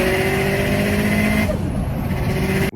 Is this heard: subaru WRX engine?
yes